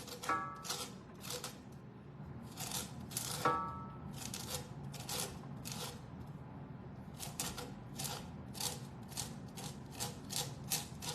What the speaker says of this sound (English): You got to scrape it, honey.